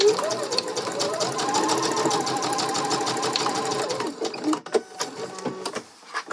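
A domestic sewing machine runs steadily for about four seconds, stitching bias tape onto a garment's armhole, then stops, leaving a few soft handling clicks and fabric rustles.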